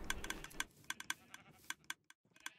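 Minecraft sheep bleating on a medieval-style farm with an automatic wool-shearing pen, several short bleats in quick irregular succession, fairly faint and with no talk over them.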